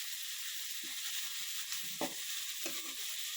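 Food fries in a pan with a constant broad hiss, and a few brief scrapes and taps from stirring stand out over the steady sizzle.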